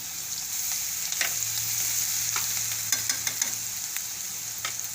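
Garlic and ginger-chili paste frying in oil with asafoetida in a pan on low heat: a close, steady sizzle broken by a run of crisp pops and spatters, with no voices.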